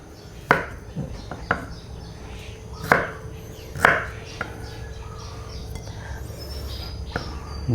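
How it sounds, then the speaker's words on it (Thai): Several sharp knife chops on a cutting board, cutting pineapple into small pieces, irregularly spaced, close by, with quiet background ambience between strikes. "เราก็จะหั่นเป็นชิ้นเล็ก ๆแบบนี้นะคะ"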